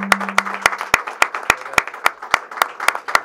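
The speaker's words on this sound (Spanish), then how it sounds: "Un fuerte aplauso para don David Santalla." An audience applauds David Santalla with sharp, evenly spaced claps in a steady rhythmic beat, loud and close, with a brief low tone under the opening.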